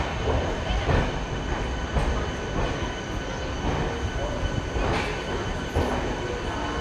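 The Katni–Chirmiri MEMU passenger train pulls out of Shahdol railway station with a continuous rumble and rhythmic wheel clatter on the rails. It stays loud and close throughout, with faint voices in the mix.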